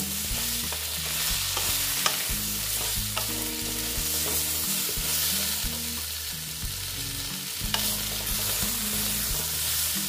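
Squash and potato fry with chili powder in a pan, giving a loud, dense sizzle and constant stirring scrapes over low, steady musical tones playing in the background.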